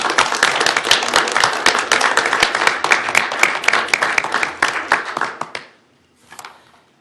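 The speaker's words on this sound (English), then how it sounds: "So if we could please give them a round of applause." A council-meeting audience claps steadily in dense, even applause for about five seconds before it quickly dies away, with a brief faint patter afterward.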